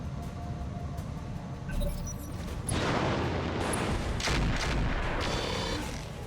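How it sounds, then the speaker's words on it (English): Weapons fire from mechs in the BattleTech video game: a burst of booming, crackling shots and explosions erupting around the third second and rolling on densely over a low background rumble, with no talking. "Firing full complement on enemy."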